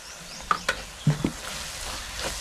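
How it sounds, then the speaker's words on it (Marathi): Chili powder, garam masala and turmeric are stirred and fried in a pan for dhaba-style whole masoor, a soft steady sizzle broken by a few sharp scraping clicks of the spoon. "हे मसाले चांगले असे मिक्स करून घ्यायचे, परतवून घ्यायचे."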